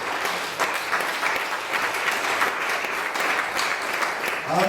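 An evangelical church congregation breaks into sustained, lively applause, with the hall full of steady clapping and faint crowd noise mixed in.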